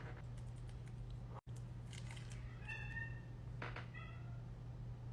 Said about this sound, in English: My cats are going crazy.